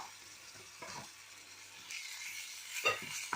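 Oil, about 1.5 to 2 tablespoons, sizzles and crackles steadily in a pan as chopped onion fries, with a few soft stirring scrapes.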